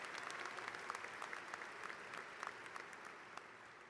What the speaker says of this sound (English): Let's give Dr. Contreras a round of applause